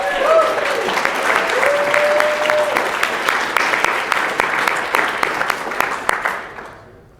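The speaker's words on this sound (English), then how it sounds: "big round of applause to all of our student winners" Banquet audience at a student cartography awards presentation applauds the winners, a full room of brisk clapping that holds strong, then thins and fades out to silence near the end.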